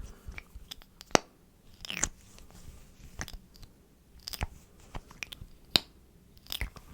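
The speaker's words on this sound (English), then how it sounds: "give some nice lip gloss sounds." Close, sticky little smacks and wet clicks from lips as lip gloss is applied, scattered irregularly across a quiet background with no talking.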